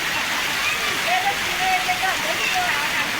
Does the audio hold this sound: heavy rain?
yes